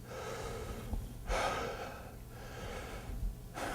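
A person imitates Kussmaul respirations, with deep, rapid, heavy breaths in a steady rhythm of loud inhales and exhales, close to the microphone and with no words spoken.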